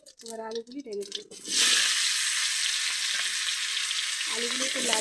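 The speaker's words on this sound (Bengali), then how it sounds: "আলুগুলি একটু লাল লাল করে ভেজে নেব।" Potatoes drop into hot oil with bay leaf and cumin in a wok and burst into a loud, sustained close sizzle, with a voice talking before and near the end.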